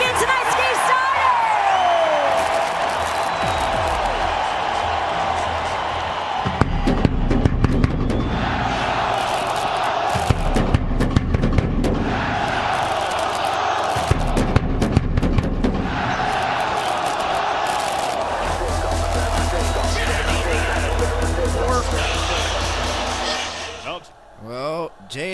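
A Buffalo Sabres home crowd roars at an NHL playoff hockey game against the Montreal Canadiens, with sustained cheering, whoops and sharp bangs rising and falling under an announcer's voice and arena sound.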